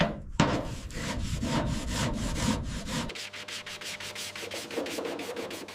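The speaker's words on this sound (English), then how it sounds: "Hand sanding these tricky corners and edges machines can't reach." Hand sanding the rusty metal corners and edges of an RG-31 Nyala armored vehicle abandoned for 28 years: steady, close rhythmic abrasive strokes, slower back-and-forth at first, then quicker, tighter scrubbing.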